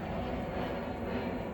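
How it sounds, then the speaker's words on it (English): A steady, distant rumbling roar of an airplane passing overhead outdoors, continuous and fairly faint through the short stretch, with no voices. "Oops, got an airplane."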